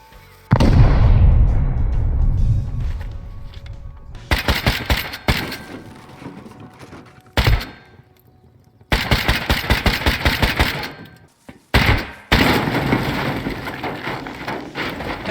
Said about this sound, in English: I made a bunch of satchels to take the bulk off and then finished it with a bit of expo ammo.